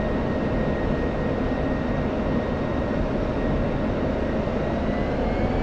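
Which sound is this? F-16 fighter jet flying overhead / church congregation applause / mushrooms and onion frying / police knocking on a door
F-16 fighter jet flying overhead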